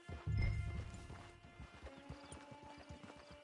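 Hooves of a horse in Red Dead Redemption 2 clop in a quick, regular rhythm across the ground, beginning after a brief louder thud and continuing at moderate volume to the end.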